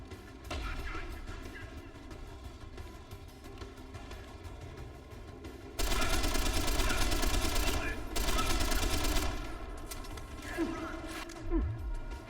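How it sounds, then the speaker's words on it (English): Grenade launcher blasts and gunfire in Deus Ex: Human Revolution, a sustained loud burst of explosions over ongoing combat noise, with two heavy stretches of blasts. "Plus, I have a neat grenade launcher I can use."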